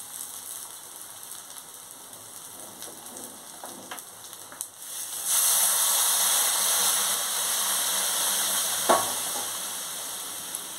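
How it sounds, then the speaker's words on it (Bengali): Hot water goes into rice that has been fried in a pan for basanti pulao, setting off a loud, steady sizzling hiss that rises sharply partway through and then keeps going with a few faint clinks. "এবার আমি এর মধ্যে গরম জলটা দিয়ে দেবো"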